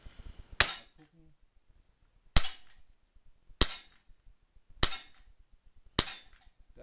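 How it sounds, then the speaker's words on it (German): Five sharp shots from a Heckler & Koch USP pistol fired in double-action ring out at an even, unhurried pace, each crisp crack trailing off briefly before silence returns. "Das sind die ersten 5 Schuss."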